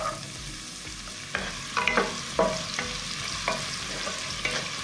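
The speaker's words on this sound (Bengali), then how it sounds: "গাজরটা দিয়ে নাড়াচাড়া করতে হবে," Chopped carrot stir-fried in ghee with cardamom and cinnamon for restaurant-style fried rice: a soft continuous sizzle broken by several sharper scraping stirs of the spatula, close up and without voices.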